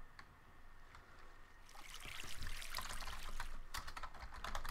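Rapid clicks of typing on a computer keyboard while playing Minecraft on PC, close and busy, strongest in the second half over a steady background hiss with no talking.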